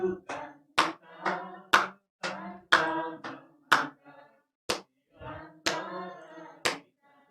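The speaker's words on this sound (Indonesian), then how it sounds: "saya tepuk tangan" Sharp single hand claps keep a steady beat along with congregational singing at a Sunday church service, about a dozen claps spaced between sung phrases, close and clear.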